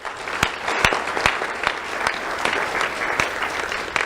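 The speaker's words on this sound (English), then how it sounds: "Let's give a round of applause to Lieutenant Smalls." Round of applause from the audience at the Do The Right Thing Awards for Lieutenant Smalls, moderate crowd clapping with a few sharp louder claps standing out, steady throughout.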